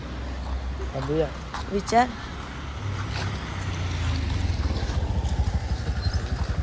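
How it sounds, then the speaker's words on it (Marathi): An auto rickshaw approaches along a quiet road, its engine building to a close, rhythmic putter over the last few seconds, while people talk nearby. "ही बी रिक्षा येते"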